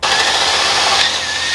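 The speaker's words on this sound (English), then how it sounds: "I do need to drill a new hole down here for the push pin to go in" A power drill whines steadily and loudly, boring a hole for a push pin through a carbon fiber rear diffuser on an MK5 Toyota.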